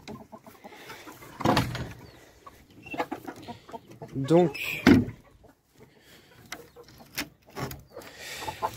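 Laying hens cluck and squawk in short bursts close by, with a person talking intermittently over them and some shuffling movement.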